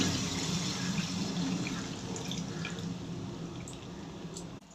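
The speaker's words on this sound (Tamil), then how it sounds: "எனக்கு புளி போதுன்றதால நான் நார்மல் தண்ணி ஆட் பண்ணிக்கிறேன்" Plain water poured into a simmering Tamil stingray fish gravy, a soft continuous trickle and splash that is fairly faint and heard alone.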